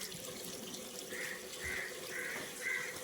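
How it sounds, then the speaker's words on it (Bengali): Tap water runs while cauliflower is washed beneath it, a faint, steady trickle and splash close by with a few brief swells, and no one speaks. "কপিটা একটু ভালো করে ধুয়ে নিই"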